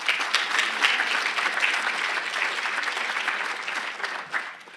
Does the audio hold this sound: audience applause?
yes